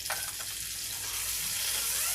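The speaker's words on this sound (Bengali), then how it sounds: "আলুটা এখানে প্রায় ভাজা ভাজা হয়ে গেছে" Potatoes frying in a pan for a Bengali ridge gourd, potato and poppy seed dish give a steady, close sizzle with a faint stirring scrape near the start, with no talking.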